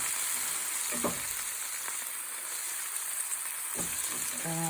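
Moringa greens cooking in a pan with steady, close frying sizzle throughout, a few soft utensil clicks and stirring scrapes breaking through the hiss.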